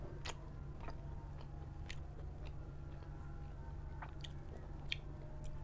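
Close chewing and biting of spiced roast chicken, with soft repeated crunchy bites and wet mastication over a steady low background hum.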